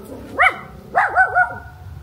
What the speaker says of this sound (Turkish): Köpek var, köpek gel.